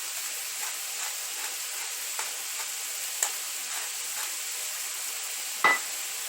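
Sloppy joe mixture fries in a skillet, a soft steady sizzle with occasional faint scrapes of stirring and one sharp clink near the end.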